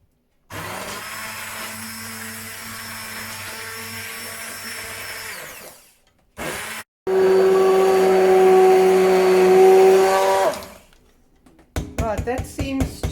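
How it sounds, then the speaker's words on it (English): An electric blender blitzing cauliflower chorizo soup runs loud and steady for about five seconds, pauses, then roars again for nearly four more before cutting out, followed by lighter clattering. "people might call it blending, but we call it blitzing"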